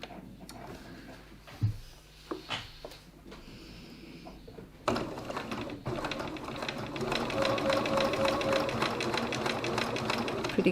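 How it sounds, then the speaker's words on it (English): Close by, a sewing machine runs a line of stitching around the edge of a body shell piece for a small Penny Inn craft build, a continuous mechanical whirr following a few earlier taps and fabric handling sounds. "Now I actually like to stitch around this a bit just to make it a little bit more stable."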